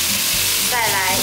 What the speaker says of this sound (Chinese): 丝瓜大约炒了2分钟左右